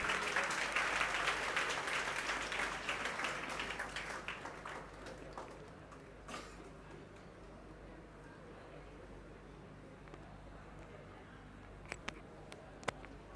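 An audience claps at a NEET-2025 results celebration for a coaching class, the applause fairly strong at first and then thinning out to a few isolated claps against a quiet background.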